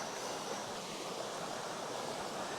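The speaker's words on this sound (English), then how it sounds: "we did make it down to this creek" A creek on a mountain hiking trail by Yellow Mountain near Addie Gap rushes as a steady, close hiss of flowing water, even and unbroken, with no voices.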